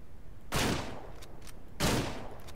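Two loud, close gunshots ring out in Ranch Simulator during a hunting outing, each with a sharp crack and a decaying tail, spaced about a second and a half apart.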